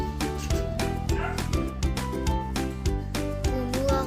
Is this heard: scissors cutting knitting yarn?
no